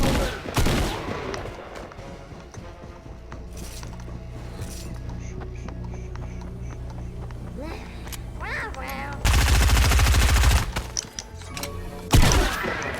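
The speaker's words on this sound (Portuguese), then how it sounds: "Que o Kit tá atirando" Gunfire in a video game sounds as mechanical clicks and a dense burst of loud rapid shots near the end, followed by a single sharp blast, all close and loud.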